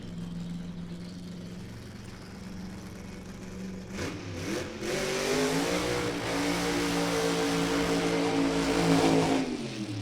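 An alcohol drag racing car, a bright red Chevrolet, idles then revs hard on the racetrack during qualifying, its engine rising in pitch around the midpoint and holding loud and near until the end.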